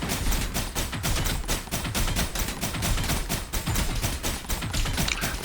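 Dark Fog enemies in a video game fire relentlessly: dense, continuous rapid gunfire bursts overlap in a loud, unbroken barrage with no pauses.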